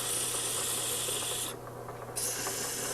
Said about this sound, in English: I'm sanding it right in its own alignment. I'm sanding it vertically.